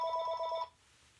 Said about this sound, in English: after that phone call, didn't expect that